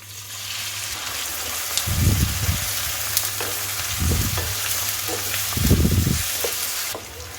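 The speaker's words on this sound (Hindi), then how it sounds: "अब हम इसे डीप फ्राई कर लेंगे।" Sliced onions deep-frying in hot mustard oil: a loud constant hiss and crackle, close by, swelling into three bubbling surges as the onions are stirred, with no talking.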